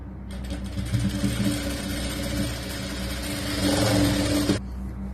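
A sewing machine runs steadily for about four and a half seconds stitching the lining fabric of a 4XL churidar top, a dense mechanical whir with a rapid needle rhythm, close and moderately loud, then stops.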